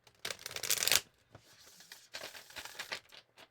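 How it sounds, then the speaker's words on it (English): A thick, premium-cardstock tarot deck is shuffled close up, with a loud crisp riffle burst followed by several softer rustling, flicking passes, and no voices. "But it does make for a little bit of a difficult shuffle."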